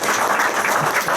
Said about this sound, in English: I love the way you're all clapping that I'm going to shut up.